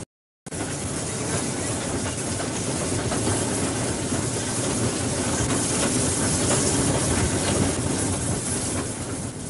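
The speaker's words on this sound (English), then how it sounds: "But after this first viaduct, the train must start to slow down quite a bit." A Welshpool and Llanfair Railway train runs continuously close by, a steady loud rumble with rail clatter and hiss that fills the whole stretch after a brief silent start.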